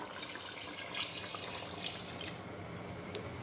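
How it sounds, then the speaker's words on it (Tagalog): A quiet, steady stream of water pours into a pot, with faint splashing throughout. "lagyan po ulit natin ng tubig"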